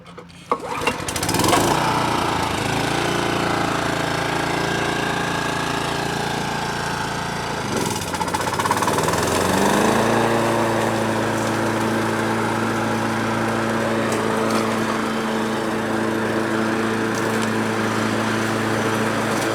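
Kubota and Honda push lawn mower engines start with a pull and run at a steady, loud drone nearby, the pitch shifting partway through as one engine settles into a lower, even idle.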